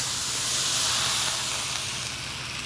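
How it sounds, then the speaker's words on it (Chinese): Meat frying in a pan for a home-style vegetarian dish, a steady, close sizzle with bright hiss running evenly throughout with no talk over it. "这个肉也来炸起来的"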